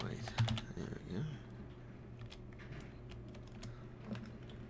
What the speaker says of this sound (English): I'm just typing a couple messages